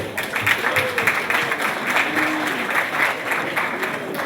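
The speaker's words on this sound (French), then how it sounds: "Je vous demande de les applaudir s'il vous plaît." Audience applause fills a cattle auction hall in France, steady sustained clapping from a crowd at moderate loudness with no pauses, honouring regular sellers from Saint-Thibault.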